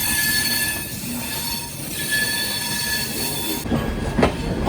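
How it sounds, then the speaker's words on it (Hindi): The Howrah Bikaner Weekly Superfast Express 12371 rolls past close by, its wheels squealing over a continuous heavy rail rumble, with a sharper metallic screech near the end. "बनारस दिल्ली से और ये बीकानेर सुपरफास्ट।"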